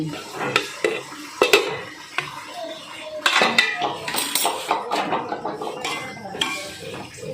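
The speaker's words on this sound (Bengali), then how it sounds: "এবারে আমি ঢাকনাটা খুলে নিচ্ছি" A lid comes off a pot of cluster bean curry, bringing a run of sharp metallic clanks and clinks of cookware, loud and close, scattered irregularly throughout.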